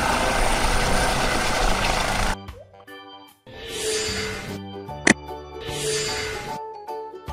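A police helicopter's broadband rotor roar fills the first couple of seconds, then gives way to quieter tonal sounds and a sharp click.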